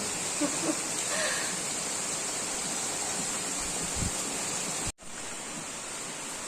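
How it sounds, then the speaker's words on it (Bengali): Steady broadband rain falling outside a home during hot weather, a continuous even hiss throughout with a brief dropout near the end and a faint voice in the background. "কি সুন্দর বৃষ্টি এসছে, ওয়েদারটা কত ঠান্ডা হয়ে গেল"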